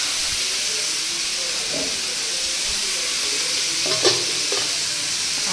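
Fish and vegetable chorchori frying in a pan, with a steady close sizzle and hiss throughout and a few soft stirring knocks near the end.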